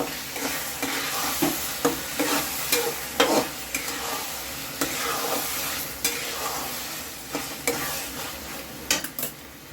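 Dry fruits being stirred into bottle gourd halwa in a pan, with a soft sizzle and repeated scraping strokes of a spoon at a steady rhythm, close by and moderately loud, with no talking.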